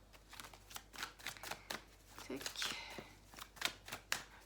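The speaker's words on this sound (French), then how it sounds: "Je vais prendre une petite carte comme ça." Tarot card slid and drawn from a deck, a few soft papery swipes and taps close by, mixed with someone speaking in French.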